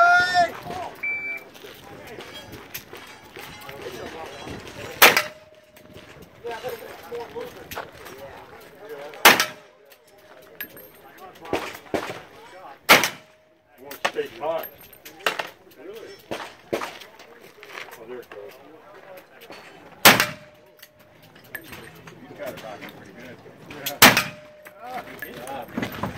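Sharp pistol-style gunshots from a cowboy action shooting stage, a dozen or so loud cracks spaced irregularly a few seconds apart, with steel target pings ringing after some shots and a voice between them.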